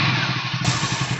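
A motorcycle engine runs steadily and close by in Rishikesh, Uttarakhand, keeping an even, throbbing drone with slight clattering for the whole moment.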